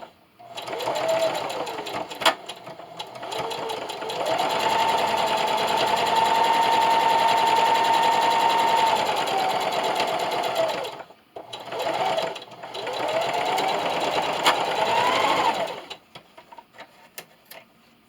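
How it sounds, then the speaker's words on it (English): A sewing machine runs a straight stitch with a 1/8 inch seam allowance on a Christmas stocking. Its steady motor whir and needle chatter pause briefly around the middle, resume, then stop near the end. "That same straight stitch with the 1/8 inch seam allowance."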